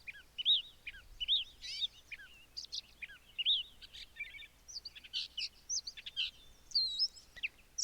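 A recorded songbird delivers a rapid, varied stream of chirps, whistles and buzzy notes that weaves in mimicry of other birds, heard clearly and alone over faint background hiss.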